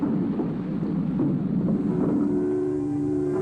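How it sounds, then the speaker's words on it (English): Massed artillery on the WWII Italian front, with hundreds of guns firing in a valley, heard on an old radio recording as a continuous, loud rumbling roar with low booming layers. "Just listen to those guns roar."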